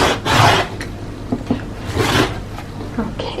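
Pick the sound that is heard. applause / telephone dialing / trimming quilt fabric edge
trimming quilt fabric edge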